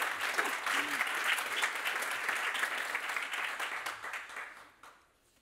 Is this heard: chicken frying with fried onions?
no